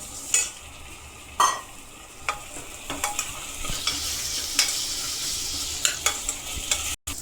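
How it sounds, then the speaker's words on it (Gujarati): Chopped tomatoes, two of them, sautéing in hot oil for a vegetable soya pulao, giving a steady sizzle with clinks of stirring and a few sharp scraping taps throughout. "અને આપણે થોડીક વાર તેલમાં સાતળશું।"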